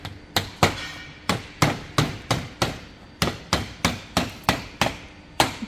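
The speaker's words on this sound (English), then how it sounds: "we just need to finish that off with a hammer. There we go. Just tap that in." Hammer taps drive a bead strip into the channel of a Redpath tunnelhouse frame, about fourteen sharp, close knocks in a steady, slightly uneven rhythm, each ringing briefly before the next.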